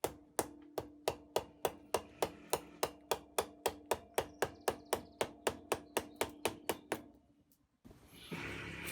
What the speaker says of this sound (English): I'm using the mallet to actually move the wood